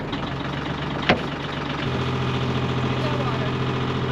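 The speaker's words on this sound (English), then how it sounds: "let me start the engine first" A sailboat's inboard engine turns over with a sharp click and settles into a steady, close, low idling drone that holds for several seconds while the boat sits tied up before sea trials.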